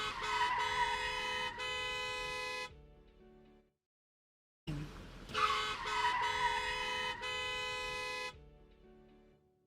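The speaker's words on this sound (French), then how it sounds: "Ambre entendit du camion freiner et klaxonner." A truck horn honks in long, loud blasts, two separate sounding bursts broken by a short silence, with no voices present.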